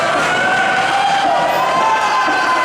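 A wrestling event crowd cheers in a dense, loud, continuous roar with raised shouting voices, unbroken for the whole stretch.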